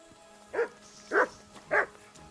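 A dog in a video game barks three times at even intervals, each bark short and moderately loud against a quiet background.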